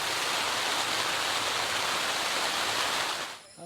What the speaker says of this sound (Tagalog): hindi namin alam kung ano oras matatapos yung ulan